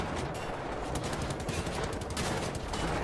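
Sustained barrage of laser gunfire in a video game, a dense, continuous roar of rapid shots with no pauses, loud and close throughout.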